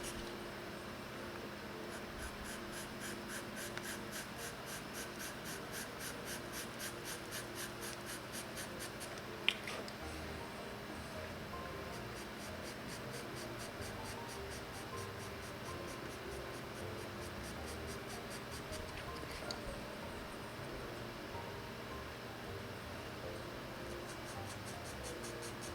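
Pastel pencils scratch across paper in a continuous close, soft drawing sound with rapid strokes, steady and quiet, with a couple of faint taps along the way.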